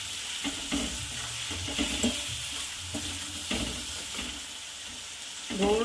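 Red chillies cooking on a slow flame for thecha give a continuous soft sizzle with repeated scraping and stirring taps against the pan, close and moderately loud, with no voices.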